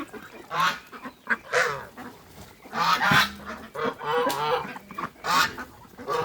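Ducks and geese honk and quack repeatedly while feeding, loud and close, in overlapping bursts with no talk.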